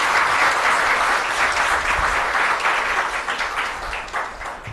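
Loud, sustained applause from a large audience at an event with President Droupadi Murmu, dense clapping filling the space and slowly thinning toward the end.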